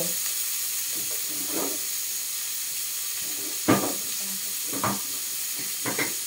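Bitter gourd and meat fry in a pan with a constant bright sizzle and hiss, broken by a few louder crackles and scraping stirs.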